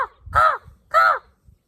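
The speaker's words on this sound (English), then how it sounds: "The raven says yes." A raven calls twice outdoors, two loud, harsh, throaty croaks about half a second apart, close and clear against a quiet background.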